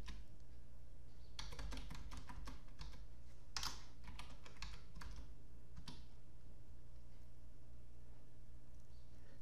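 Keys tapped on a computer keyboard while a ping command is entered in Windows Command Prompt, a quick irregular burst of close, crisp clicks over a low steady hum, fading out toward the end.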